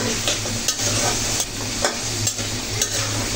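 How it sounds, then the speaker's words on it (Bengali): Potatoes and vegetables frying with turmeric in a pan for a taki fish curry, a steady close sizzle broken by periodic scrapes and stirs of a spatula. "তো আলু সবজিগুলো আগে ভেজে নিচ্ছি"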